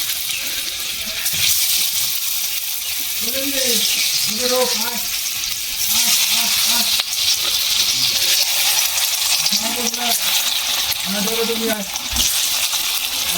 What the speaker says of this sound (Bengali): তেল গরম হয়ে গেছে, আমি তেলের মধ্যে একটা একটা করে আস্তে আস্তে ছাড়বো।